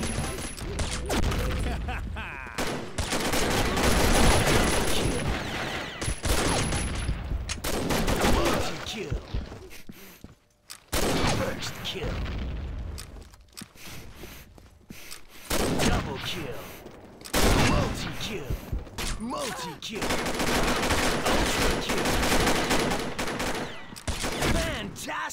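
Rapid bursts of gunfire from a multiplayer shooter video game, sustained loud fusillades with brief pauses, punctuated by in-game announcer calls and excited voices.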